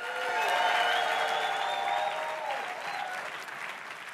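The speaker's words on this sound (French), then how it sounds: "Est-ce qu'on peut donner une main d'acclamation à notre Dieu, au roi des rois?" A church congregation applauds and cheers in praise of God, a dense, sustained wash of clapping with some raised voices that swells early and then gradually eases off.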